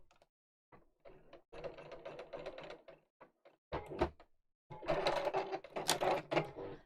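Short bursts of a sewing machine stitching the ends of a zip together, stopping and starting in quick runs with clicking mechanical chatter and brief pauses between, fairly close and moderately quiet.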